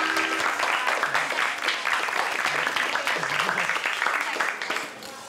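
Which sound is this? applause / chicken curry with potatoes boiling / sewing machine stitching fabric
applause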